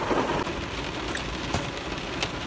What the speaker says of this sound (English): Rain. Not just a light summer rain, it's blooming pouring.